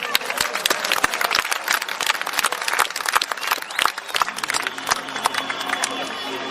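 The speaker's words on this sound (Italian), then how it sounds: "Un applauso a Teodoro Manca." Audience applause at an evening horse show in Santa Giusta, Sardinia, with dense clapping throughout, crowd chatter underneath and a sustained tone entering near the end.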